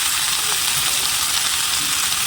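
Salt, turmeric and spices fry in hot oil with a loud, steady hiss and crackle that stays close and constant throughout.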